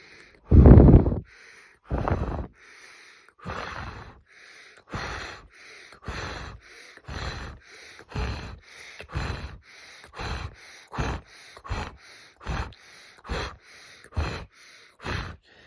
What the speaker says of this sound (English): You do that through your breathing techniques.